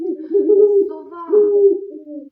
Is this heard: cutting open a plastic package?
no